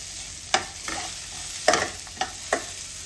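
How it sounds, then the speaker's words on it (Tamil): Potatoes fry for aval upma in a pan, with a steady sizzle under several sharp scrapes and clinks as a spoon stirs them at uneven intervals. "நல்லா வந்து ஃப்ரை பண்ணி விட்டுருவோம்"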